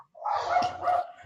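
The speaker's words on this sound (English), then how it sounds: "Now they're outside barking at the gate." A single short dog bark, or a quick double bark, from dogs outside at a gate, fairly close and loud, with no talking.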